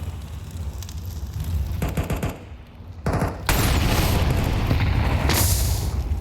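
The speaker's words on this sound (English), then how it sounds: "A deep nade here could do a chunk of damage." Grenade detonating on the Inferno map in a professional Counter-Strike match, a heavy close boom followed by sustained roaring, crackling noise and gunfire-like rattles, loud throughout with almost no talk.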